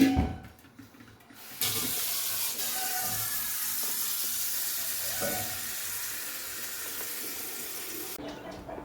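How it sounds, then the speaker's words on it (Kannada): Water runs from a tap in a steady rushing stream into a metal pot, starting abruptly after a quiet moment and stopping near the end. "ಚೊಂಬು ತಗೊಂಡಿದ್ದೇನೆ ಇದಕ್ಕೆ ಈಗ ಸ್ವಲ್ಪ ನೀರು ತುಂಬಿಸಿ ತೊಗೊಂಡೋಗೋದು"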